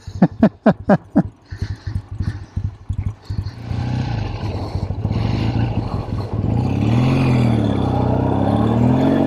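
A Triumph T100 motorcycle runs while being ridden. Loose clattering pulses at first give way to a steady, strengthening engine drone that rises in pitch as it pulls away. The sound is close and loud.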